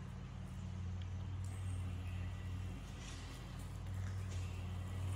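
An electric tractor strains as it lifts its loaded bucket from under a dirt mound, producing a steady low motor drone with a faint rising whine throughout.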